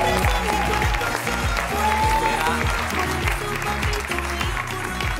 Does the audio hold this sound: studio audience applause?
yes